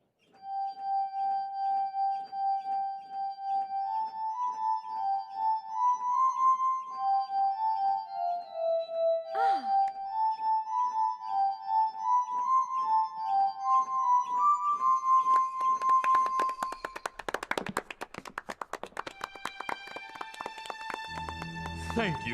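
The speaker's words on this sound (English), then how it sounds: "This is an invention of Dr. Franklin's called the glass harmonica." A glass harmonica, Benjamin Franklin's invention of different sized glass bowls turned by a crank and touched at the rim, plays a clear, sustained, ringing melody of pure tones. The tune ends in a burst of jangling clatter.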